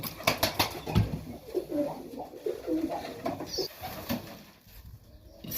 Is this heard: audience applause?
no